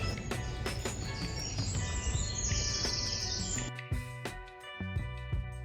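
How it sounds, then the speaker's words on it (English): Birds sing and chirp loudly outdoors in Rüdesheim am Rhein in the Rhine Valley, a busy stream of sharp, repeated close calls over steady background noise, continuing after a brief lull. "The birds are so loud."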